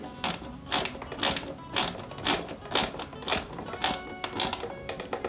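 Small screws being driven into the plastic control box of an Eaglemoss Ghostbusters Ecto-1 model car, heard as a close series of about nine sharp ratcheting clicks at a steady, regular rhythm.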